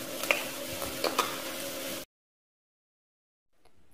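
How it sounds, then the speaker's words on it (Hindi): Garlic and ginger paste sizzles in a hot pan for a couple of seconds with a few stirring scrapes, then goes abruptly silent before a faint sizzle returns. "और इसे 1 मिनट के लिए फ्राई करेंगे।"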